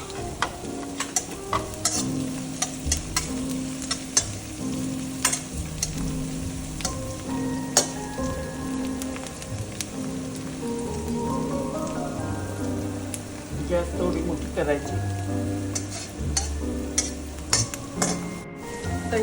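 Onions and green chillies fry in hot oil in a pan, making a steady rain-like sizzle with sharp crackles and pops throughout, close and fairly loud, and no one speaking.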